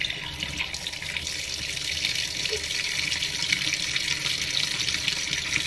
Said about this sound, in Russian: Сейчас горячая вода прольется и попробуем большим напором холодной воды, будет набираться или нет.